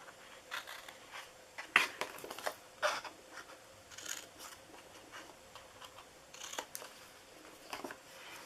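Scissors cut paper for a DIY bunny treat box, a few close, quiet snips and clicks spread out with pauses between them in a quiet room.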